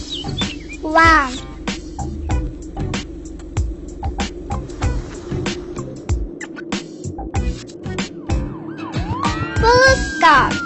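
Police car siren mixed into a busy kids' toy vehicle scene, with wavering siren sweeps near the start and end among clattering toy noises, chirps and a voice.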